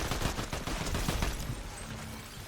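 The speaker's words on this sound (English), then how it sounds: "Where are they shooting me from?" Gunfire in a video game, a rapid fusillade of shots fairly close, dense and sustained for the first half and then easing into a softer background rumble.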